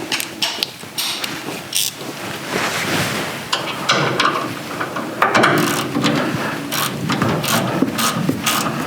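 A ratchet wrench clicks rapidly in bursts as 9/16 bolts come off the sway bar on a Chevelle, close and metallic, with brief pauses between runs of ratcheting.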